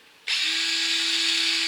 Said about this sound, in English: you're going to let the drill do most of your work